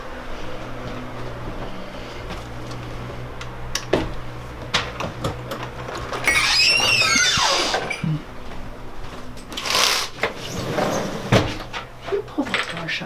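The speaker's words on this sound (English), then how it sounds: "Pull the door shut behind you," A door is pulled shut at a candy company workplace, giving a few dull clunks and knocks amid steady background noise and occasional voices.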